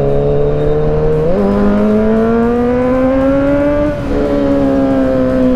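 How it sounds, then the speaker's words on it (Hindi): A scooter races along a neighborhood street, its small engine giving a loud, steady buzzing whine that climbs in pitch, with a brief shift partway through. "लोंडा रेस लगा रहा है भाई स्कूटी पे"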